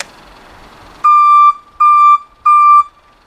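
A reverse beeper on a Kubota BX25D compact tractor sounds three loud, evenly spaced electronic beeps, each lasting about half a second.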